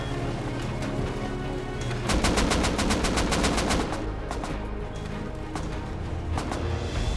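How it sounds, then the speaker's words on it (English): A rapid burst of automatic gunfire from the survival game Rust, loud and sharp, rattling for about two seconds amid a continuing spray of lighter shots and a dense background bed. "They're getting shot at by counterers."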